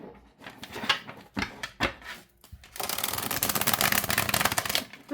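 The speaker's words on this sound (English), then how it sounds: "Let's see how it shuffles" A Sleepy Hollow tarot card deck being shuffled up close, first a few separate riffling bursts with short pauses, then a longer continuous flurry of rapid card flutter.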